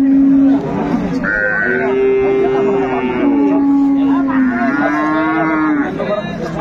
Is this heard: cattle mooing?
yes